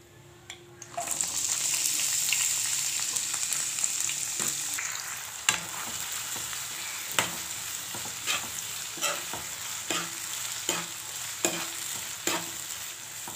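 Thickly cut onions sauté in oil for fish korma, a bright steady sizzle that starts abruptly after a moment of quiet, then a regular series of utensil knocks and scrapes as they are stirred.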